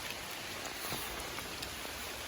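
Steady rain falling outdoors during a solo camping trip, a dense, even hiss of drops pattering on surfaces with no voices.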